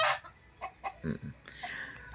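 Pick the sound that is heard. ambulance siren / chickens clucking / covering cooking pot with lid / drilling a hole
chickens clucking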